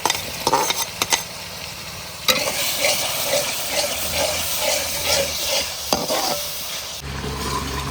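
Green chilies and tomatoes frying in an onion, garlic and ginger paste for a spinach and potato curry, giving a steady sizzle with stirring clatter close by.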